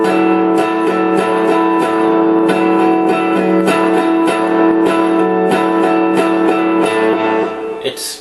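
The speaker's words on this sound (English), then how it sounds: "It's kind of like what we call a minor 7 chord" Guitar strumming a minor 7 chord voiced in a higher position with one string muted, repeated rhythmic strums ringing steadily at close range with no talk.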